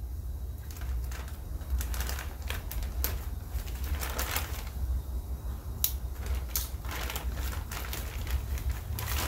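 Plastic packaging of a budget K20 clutch kit being cut open at close range, a steady run of sharp crackles, snips and crinkles over a low background hum, with no talking.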